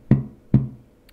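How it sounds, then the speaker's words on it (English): Two muted dead notes on a bass guitar, made by resting the hand on the string without fretting, each a short dull percussive thump spaced about half a second apart, close and fairly quiet. "It's those dead notes that we get by just holding our hand against the string without fretting a note"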